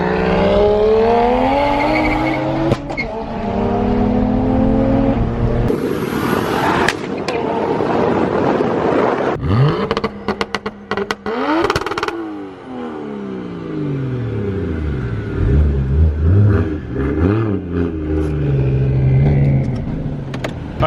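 Single-turbo BMW 335i engine revving hard and loud with rising and falling harmonic sweeps, sustained roar throughout with brief dips between pulls, on a dyno.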